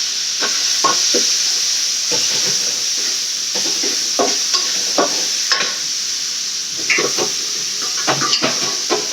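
Vegetables and raw plantain sautéing in a pan, with a steady hiss beneath repeated scraping strokes of a stirring spoon, close and fairly loud.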